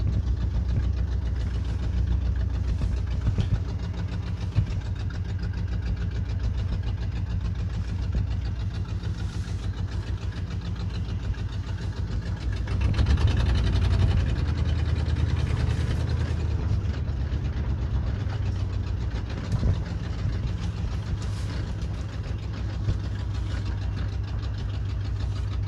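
A 1986 Mercury Grand Marquis Colony Park engine running in gear, a continuous close low rumble with a steady pulse and a slight swell in the middle.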